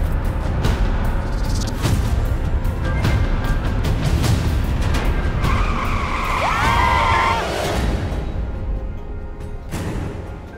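An out-of-control car skids in a movie scene, with loud tire noise and engine rumble throughout and a squeal rising midway, continuous and close with no talk.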